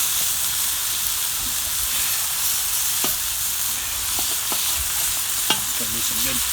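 Fajita meat sizzling over a raging hot fire at a glamping campsite, a loud, continuous hiss and crackle up close, with a few faint utensil taps scattered through it and no voices.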